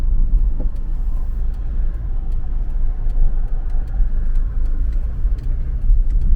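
Inside a Kia Carnival coasting on the road, a steady low rumble of road and engine noise holds evenly throughout, with faint ticks above it and no talk.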